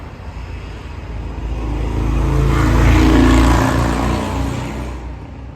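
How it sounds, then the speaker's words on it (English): A loud motorcycle roars past outdoors, rising from a steady engine drone to a broad peak at mid-pass and then fading away, with no talking. "That motorcycle was loud."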